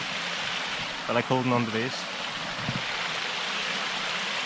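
Small waterfall and stream flowing steadily outdoors on a dull day in Ireland, a constant broadband rush close by, with someone speaking briefly over it.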